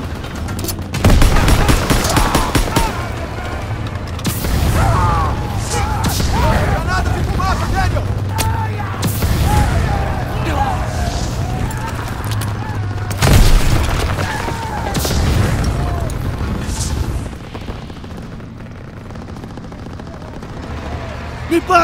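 Gunfire and explosions in the Call of Duty WWII video game, with heavy booms and bursts of shots that include a grenade blast, loud and close, while a voice talks over the action.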